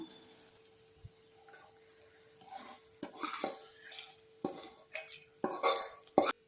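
A tempering with asafoetida is stirred in a pan, giving scattered spoon scrapes and clinks against the metal over a faint hum, a few louder strokes near the end, with no speech.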